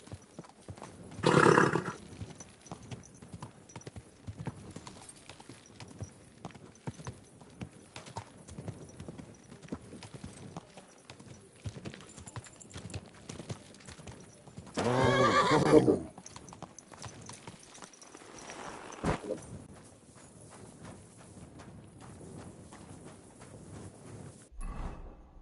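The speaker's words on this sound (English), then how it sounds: "Easy, good horse." A horse clops its hooves at a steady walking pace, and two loud whinnies and a neigh come through clearly. A person speaks quietly in between.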